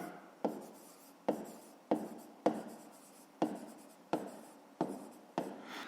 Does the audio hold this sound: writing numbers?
yes